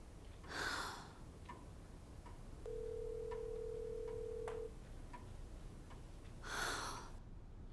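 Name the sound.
telephone ringing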